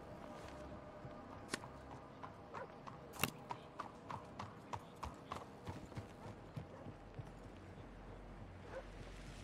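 Horse hooves clip-clop at a steady walking pace in a Wild West roleplay video game, crisp evenly spaced hoofbeats over a soft ambient bed, with an occasional faint whinny and no talking.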